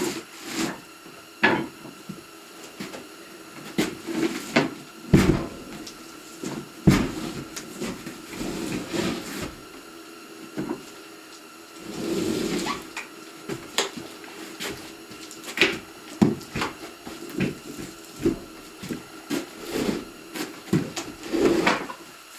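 Live edge ash wood slab, a rough rustic tabletop piece, shifted and turned over with a series of wooden knocks, scrapes and rubs at close range, irregular bursts separated by brief pauses.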